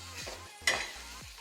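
Onion is stirred in hot oil in a home kitchen while frying for a fish curry, with a soft steady sizzle and a few quick scraping stirs.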